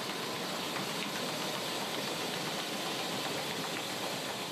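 Sugar centrifuge drum loaded with raw sugar spinning up toward 1400 rpm, a steady dense whirring roar with broad machine hiss, constant in level throughout with no talk.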